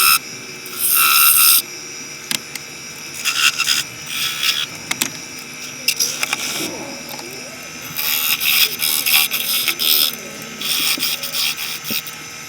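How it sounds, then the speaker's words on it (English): A woodturning lathe spins a cherry bowl while a square edge carbide cutter shapes the foot, giving intermittent bursts of scraping cuts between quieter stretches of the turning machine, close and fairly loud. "I'm using a square edge carbide cutter to start creating the foot."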